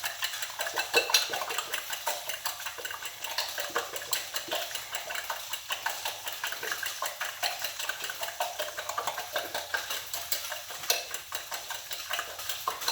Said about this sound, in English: getting those eggs whipped up